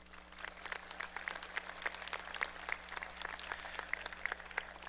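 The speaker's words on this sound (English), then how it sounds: "Please give them a round of applause" Audience at a Parkersburg High School graduation ceremony applauds school foundation supporters with a steady, moderately distant patter of clapping that continues throughout over a low hum.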